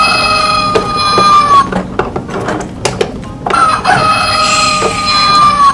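Rooster crowing in a children's farm-animal song setting, two long loud cock-a-doodle-doo calls with a choppy clucking gap between them, close and clear with no talking.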